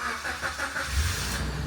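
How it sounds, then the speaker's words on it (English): A third-generation Suzuki Jimny's engine cranks and catches about halfway through, settling into a steady low idle rumble that holds to the end, heard close from inside the car with no talking. "If you start the car now,"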